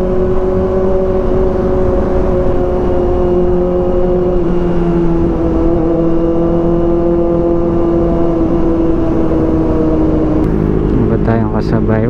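A Kawasaki ZX-4RR sport motorcycle with an SC-Project aftermarket exhaust roars loudly and continuously up close, its deep exhaust note echoing under a covered area, with talking over it.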